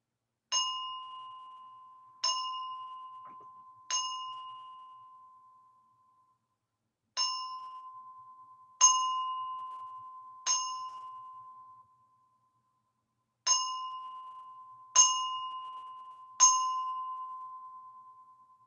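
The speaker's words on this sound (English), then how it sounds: "Now let us begin with the 9 knells of the bell." Nine clear ritual bell strikes ring out alone in three groups of three, each tone ringing and slowly fading before the next.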